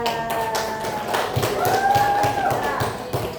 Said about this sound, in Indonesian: kita beri aplaus buat Ziza